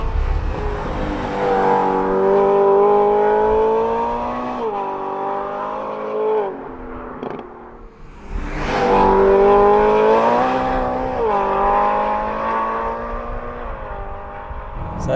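A BMW E9x M3 with a Milltek valved exhaust revs steadily, its exhaust note climbing in pitch, dropping briefly near the middle, then rising again; loud and close, no talking.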